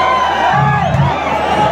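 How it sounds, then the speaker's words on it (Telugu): A large crowd at an event in Nellore yells and whoops together in a dense, loud, continuous roar with no clear break. "వీళ్ళందరూ ఎందుకు అరుస్తున్నారు తెలియట్లేదు."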